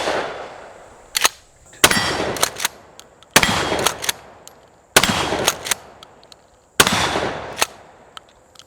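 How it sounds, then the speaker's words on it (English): Suppressed shotgun blasts fired at moving targets: five sharp, loud reports spaced about every second and a half, each with a brief ringing tail, plus a few softer clicks and thuds between shots. "it's more a pleasurable experience shooting with the suppressor"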